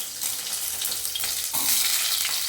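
Small onions sizzle and crackle steadily in hot oil, close and fairly loud, with the frying swelling slightly partway through.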